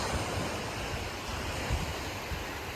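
Sea waves wash onto a beach at Ayia Napa in Cyprus, a steady close hiss of surf mixed with light wind, with no voices.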